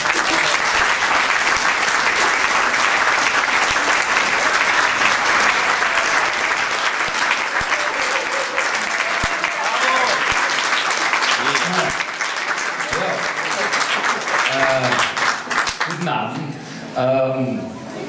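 An audience at a New Year's reception for pro mente Wien welcomes a speaker with loud, sustained applause for about fifteen seconds, thinning out before a voice begins speaking.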